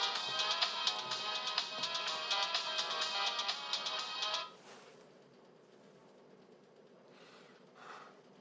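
A mobile phone ringtone rings loudly and continuously for about four and a half seconds, then cuts off, leaving a quiet room tone with a few faint rustles.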